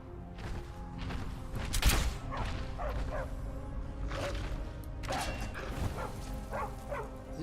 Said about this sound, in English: You guys have a dog?